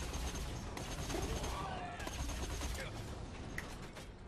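Gunfire in the video game Borderlands 2 crackles as a dense, continuous stream of shots, with busy mechanical battle noise layered beneath at a fairly quiet level.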